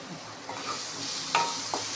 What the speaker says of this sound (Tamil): காரப்பொடி போட்டு வதக்கியாச்சு